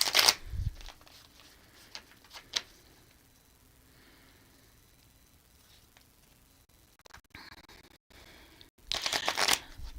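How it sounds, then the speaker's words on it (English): Tarot cards shuffled and pulled in bursts of crisp riffling at the start and again near the end, with quieter soft handling and a few light taps in between, no talking. "pulling you a few cards here"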